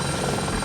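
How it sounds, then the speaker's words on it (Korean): A helicopter blows wind across a film set, heard as a loud, steady rotor roar with no break. "헬기로 바람을 불었어요."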